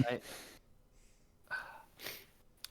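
A person sneezes close by with a sharp gasping intake and burst, followed by snorting breaths, while other voices talk around it.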